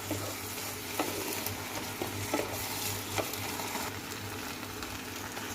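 Crushed fried lentil dumplings stirred into spinach and potatoes in a pan, a soft continuous sizzle with light scraping strokes of a spoon, heard alone without speech.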